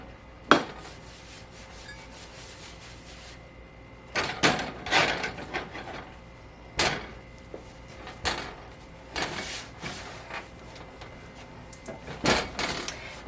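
Homemade pasta dough kneaded by hand on a floured stovetop surface, producing soft rubbing and intermittent thumping presses that come in irregular bursts at close range.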